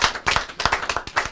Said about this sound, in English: Mona, clap for him.